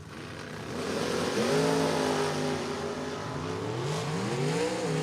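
A Ford Mustang and a Chevrolet Camaro launch off the line at a drag strip, their engines revving hard and climbing through the gears, loud and close, and then fading a little as the cars pull away.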